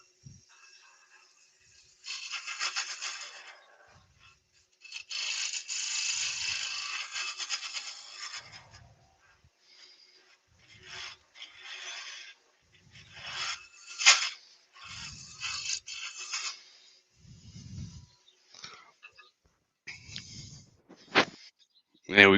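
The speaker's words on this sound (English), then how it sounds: "Just going to use my round nose carbide cutter just to clean the bottom up a little bit." Round nose carbide cutter scraping and rasping across wood to clean up the bottom of a cut, in bursts of varying length with pauses, close and moderately loud.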